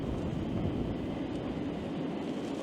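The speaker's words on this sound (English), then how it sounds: "So we've got that tram again" A tram rolls past in front of seaside cliffs, a steady, continuous rumble and rush that holds at an even level throughout without any voices.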